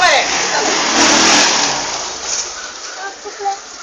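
A vehicle engine revs loudly and close, its roar holding then slowly fading, while voices come in toward the end.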